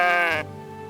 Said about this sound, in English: There's a sheep here.